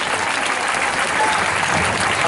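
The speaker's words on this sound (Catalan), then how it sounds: "Aplaudiment, molt bé, nois." Steady, dense applause from an audience at a children's prize-giving ceremony, continuous and fairly loud throughout with no speech over it.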